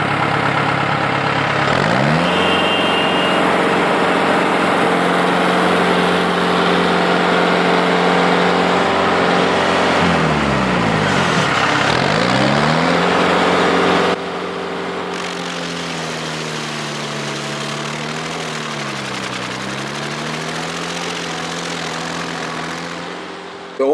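A stump grinder's engine drones loudly and steadily, dipping and recovering in pitch as the cutting wheel bogs into the stump, then settling to a lower, wavering run.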